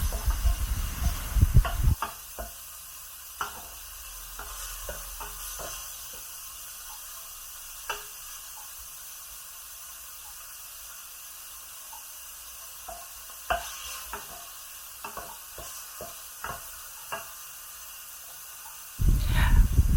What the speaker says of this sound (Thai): พอ หมูเริ่มสุกแล้ว เราก็จะใส่เต้าหู้ลงไปผัดอีกเลยนะคะ